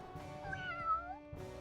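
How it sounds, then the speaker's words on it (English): Cats meow in the video game Arc the Lad: several tonal, wavering meows rise and fall over a soft background of game music, close and clear, lasting just over a second. "that sound volume on the cats is a little higher."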